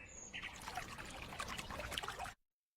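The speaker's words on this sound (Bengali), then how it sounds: "আমি হাত মুখ ধুয়ে আসছি এখনই" Water pours and splashes as someone washes their hands and face, a continuous close trickle and spatter that cuts off abruptly near the end.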